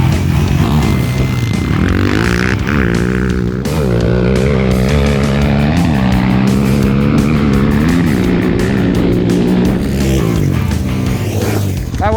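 Modded Honda 400EX and Kawasaki KFX450R ATVs drag racing, two engines roaring loud and close, revving and shifting up through the gears in a sustained, throaty blare with rising and falling pitch.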